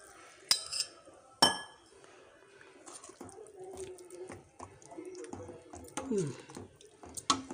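Spoon stirring green gram sambar in a metal pot after water is added, sharp clinks against the pot rim followed by softer wet scraping and sloshing, with a voice talking in the background.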